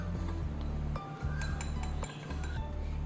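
A spoon clinks repeatedly against a bowl while stirring mustard oil into milk, making a string of bright, uneven taps at close range with no voices.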